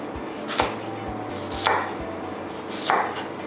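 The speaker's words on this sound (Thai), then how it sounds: "ก็จะซอยเฉพาะเนื้อพริกด้านนอกแบบนี้แล้วค่ะ" A knife slicing the outer flesh of a long red chili pepper on a cutting board, giving sparse, crisp taps at an uneven pace, close and fairly quiet, with no talk.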